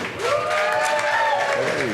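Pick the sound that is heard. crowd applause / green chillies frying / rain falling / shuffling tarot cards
crowd applause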